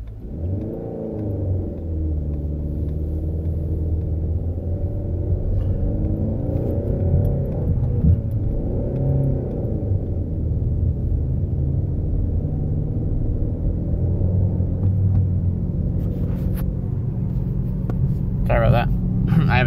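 A manual-transmission car engine rumbles steadily up close, its deep idle swelling with a few revs, while a person talks over it.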